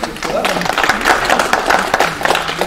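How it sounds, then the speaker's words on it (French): An audience applauds young people from an intercession mission for Côte d'Ivoire at a church talk. Steady clapping continues throughout, with a voice speaking over it. "qu'on applaudit bien, parce qu'ils sont très nombreux ce soir"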